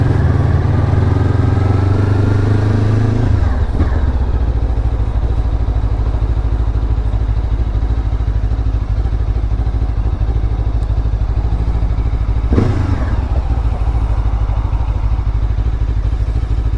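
A Lifan KPT 400 motorcycle fitted with a 43-tooth rear sprocket being ridden, its engine droning loud and steady throughout with wind rush and two gear changes or throttle shifts.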